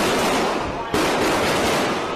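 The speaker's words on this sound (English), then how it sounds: "Looks like an exchange of gunfire right out of a Hollywood action movie." Heavy, continuous gunfire in a news report, a dense, loud crackle of rapid shots that fills the whole stretch, with one sharp burst near the middle and no voices.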